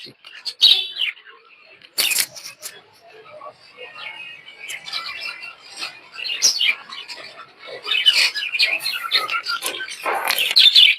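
Pet birds in breeding cages, including rainbow and clear-colored pairs, chirp and tweet in a busy mix of short calls, fairly close, with brief sharp knocks now and then.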